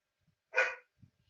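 A dog gives one short, loud bark close by, with faint rustling before and after in an otherwise quiet room.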